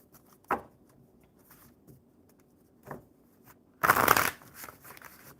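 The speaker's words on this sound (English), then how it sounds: "One more good shuffle." Tarot cards are shuffled in a few separate bursts: two short riffles early on, then a longer, louder shuffle near the end, close by with quiet pauses between.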